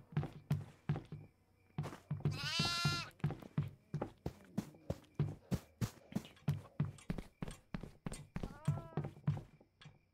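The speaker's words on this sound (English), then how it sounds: "I got myself a goat." Goat bleats in the horror video game Devour, two wavering cries at mid-volume over a steady run of heavy, evenly spaced footsteps or thuds, with a faint voice now and then.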